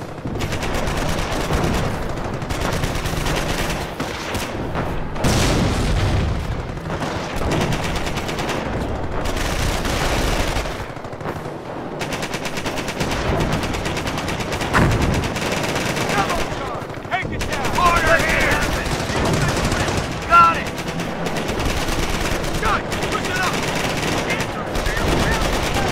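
Sustained machine gun fire from the WWII strategy game Company of Heroes rattles in long bursts with scattered louder shots, mixed with shouted in-game soldier voices over roughly twenty-five seconds of continuous battle.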